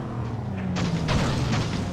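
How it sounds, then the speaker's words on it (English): A car crashing and rolling over during a race in the video game FlatOut: a low rumbling engine drone, then a burst of heavy, clattering impacts from about the middle on, fairly loud, with no talk. "and I roll the car over again."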